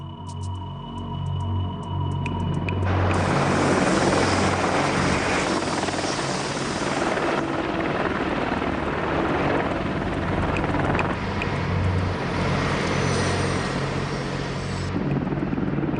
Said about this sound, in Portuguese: Esse é o helicóptero Apache AH-64A do Exército Norte-Americano, que atualmente é o melhor helicóptero de ataque do mundo.